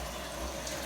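A garden hose pours water into a barrel, a steady close rushing fill with no breaks over a short stretch.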